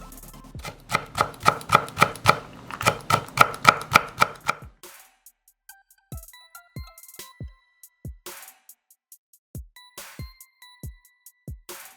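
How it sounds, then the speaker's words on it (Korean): A knife slices a halved green chili pepper on a cutting board: a quick run of sharp, rhythmic chopping taps for several seconds, then a handful of slower, separate cuts with pauses between them, close and clear with no voices. "풋고추 1개는 반을 갈라서 이렇게 슬라이스"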